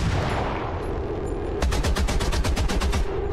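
Video game gunfire: after a stretch of background noise, a rapid burst of automatic shots erupts, with evenly spaced, sharp cracks repeating steadily and loudly to the end.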